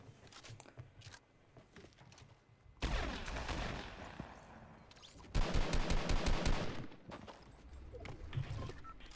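Gunfire in Fortnite Mobile: scattered quieter shots, then a loud sustained burst of rapid fire from about 3 seconds, followed by a tight, fast automatic volley near 5.5 to 7 seconds, punchy and close.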